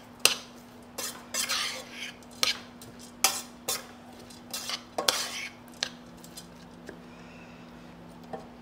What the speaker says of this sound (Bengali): এখন দেখেন এই যে খাবারটা তৈরি হচ্ছে আমরা মিক্স করবো ভালো মতো।